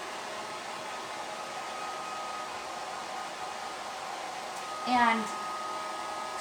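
A handheld hair dryer blows a steady, loud stream of air across a chalk-painted piece, a constant whooshing roar close by, with a brief voice cutting in near the end.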